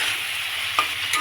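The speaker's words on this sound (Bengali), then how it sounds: "এদিকে ডিম আর আলু একসঙ্গে কষানো হচ্ছে।" Eggs and potatoes sauté together in a hot pan. Constant close sizzling runs alone, broken by two short scraping stirs of a spatula.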